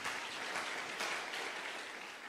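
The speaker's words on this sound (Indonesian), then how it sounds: "tepuk tangan buat Tuhan." A church congregation applauds during a sermon, a soft, dense wash of clapping that stays steady and somewhat distant throughout.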